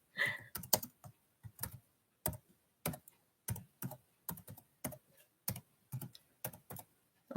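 Keys clatter on a computer keyboard in short bursts of clicks separated by pauses, close and fairly quiet, with no voices.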